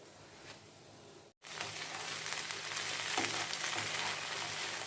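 Ladies finger (okra) bujiya fries in hot oil, giving a continuous moderate bubbling sizzle that briefly cuts out and then resumes steadily, heard alone without talk.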